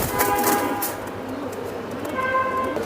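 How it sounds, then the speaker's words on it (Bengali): Pair of Damascene pigeons at a pigeon farm, giving soft low coos close by amid a busy background with a sustained tonal horn-like sound at the start and again near the end. "এক জোড়া দামাসিন দামাসিন কবুতর কোয়ালিটি ফুল কবুতর"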